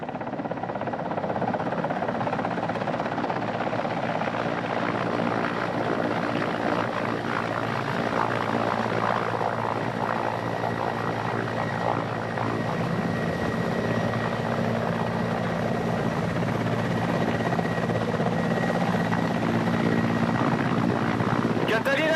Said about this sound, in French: Écoute, Nicolas, on est en vol, on va se poser sur le Chihuahua dans 30 secondes